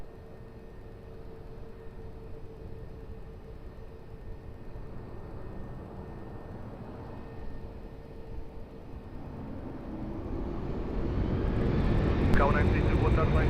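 An airliner takes off from runway 20 at Lisbon Airport, its engine roar steady in the distance and then swelling louder and closer toward the end, with air traffic radio talk heard alongside.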